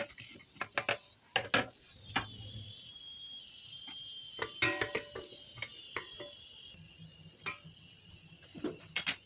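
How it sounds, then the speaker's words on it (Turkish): Onions fry in a little oil in a pan, giving a continuous high sizzle broken by scattered crackles and sharp utensil clicks, with no talking. "Soğanları güzelce kavuralım."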